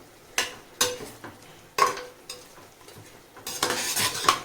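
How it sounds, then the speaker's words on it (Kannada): Masala sizzling as a biryani base is stirred in a pot, with several sharp metallic scrapes of a spoon against the pot. A louder, denser burst of stirring and sizzle comes near the end, with no talking. "ಈ ಮಸಾಲೆ ಇದೊಂದು 1-2 ಮಿನಿಟ್ಸ್ ಇದು ಒಂಚೂರು ಫ್ರೈ ಆಗಿಬಿಡಲಿ"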